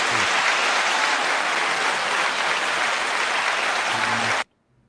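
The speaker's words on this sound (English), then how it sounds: "9 second applause." Sustained applause from a crowd, loud and dense, roughly nine seconds long, cutting off abruptly near the end into silence.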